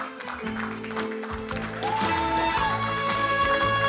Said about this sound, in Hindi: तो प्लीज चंदन कुमार जी के लिए जोरदार तालियां होनी चाहिए।